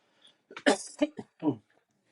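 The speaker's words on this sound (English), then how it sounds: "A bit of a cough." A few short, harsh coughs burst out close by in quick succession, separated by brief pauses.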